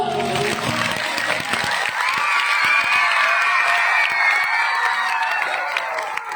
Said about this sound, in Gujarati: સુદામાની મિત્રતા માટે જોરદાર તાળીઓ